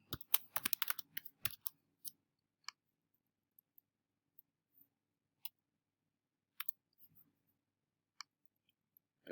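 Quick clicking keystrokes on a computer keyboard open with a fast flurry, then thin out to sparse, isolated taps against near silence.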